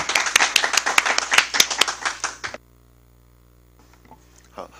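An audience claps loudly and steadily in a lecture hall to welcome a visiting professor, the clapping stopping abruptly after about two and a half seconds, leaving a quiet room with a few faint shuffles.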